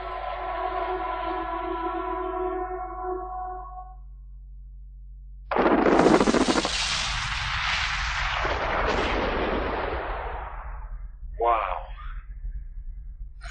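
A gold mine blast of 180,000 tons of explosives sounds as a sudden deep boom that rolls on as a long, loud rumble, then a shorter burst follows. A tonal sound comes before it.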